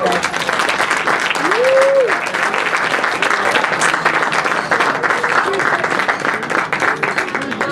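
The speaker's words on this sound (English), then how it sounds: "Once again, a nice round of applause for Stephanie" Wedding guests applauding after a toast, a steady wash of crowd clapping filling the whole stretch, with a voice briefly audible over it early on.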